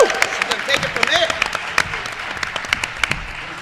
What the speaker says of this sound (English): let's give Nancy Yoon a big round of applause.